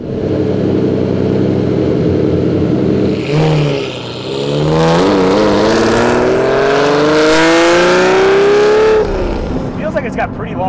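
Lamborghini Diablo SV engine revving hard, a loud raspy roar that dips briefly and then climbs in long rising sweeps through the gears before easing off, with people talking over it.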